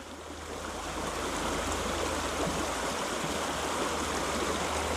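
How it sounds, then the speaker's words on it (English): Water in a local creek flows over rocks with a steady, close, full rushing and gurgling that holds level from start to end, with no voices. "at my local creek"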